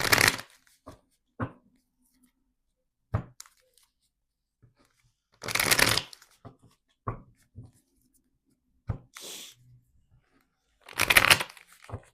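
A deck of tarot cards is shuffled in several separate riffling bursts, each lasting about a second, with soft taps and pauses in between, close and clear in a quiet room.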